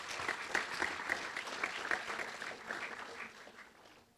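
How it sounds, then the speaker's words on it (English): Audience applause at a talk on race and policing in America, a soft, distant wash of many hands clapping that slowly fades out. "give yourselves a round of applause for being here today"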